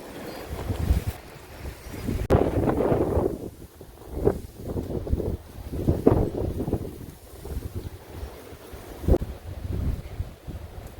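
A breeze blows through a garden of violas and other flowers in February, buffeting the microphone in uneven gusts that swell and fade, with no voices.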